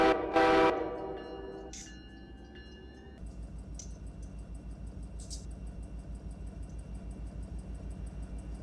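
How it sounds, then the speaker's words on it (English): A loud locomotive horn in the Run8 Train Simulator V3 game blasts briefly at the start, followed by a couple of fainter horn notes as the train rumbles along with rhythmic clatter. "Ah, it's this one with the really loud horn."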